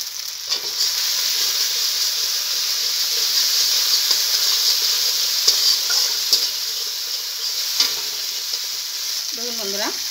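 Pointed gourd frying in a pan with salt and turmeric gives a steady, dense sizzle and hiss for the whole stretch, with occasional stirring clicks and no talking.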